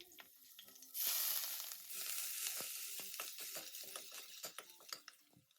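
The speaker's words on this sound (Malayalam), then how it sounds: "പച്ചമുളക് ഇട്ട് ഇഞ്ചി വെളുത്തുള്ളി ചതച്ചതും കൂടി ഇട്ടിട്ട് നമുക്ക് ആ പച്ചമണം ഒന്ന് പോകുന്നതിനായിട്ടൊന്ന് വഴറ്റിയെടുക്കാം." Green chili, ginger and crushed garlic hit hot oil with a sudden loud sizzle, then keep frying with a steady hiss broken by sharp clicks and scrapes of stirring, near and without voices.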